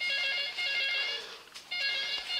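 Telephone ringtone ringing in bright, tonal electronic bursts, two long rings separated by a short break, heard clearly with no talking.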